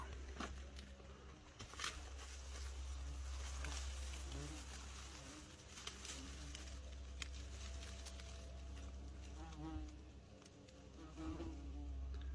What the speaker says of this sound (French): je vais vous montrer un nid de guêpe germanique qui est dans un mur